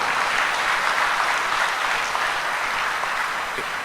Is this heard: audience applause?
yes